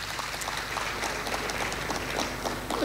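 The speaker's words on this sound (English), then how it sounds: "Let's clap for the Chair, please." Audience applause for the Chair at a water works agency strategic plan launch, a continuous moderate wash of clapping from many hands in a reverberant hall, with a low steady hum underneath.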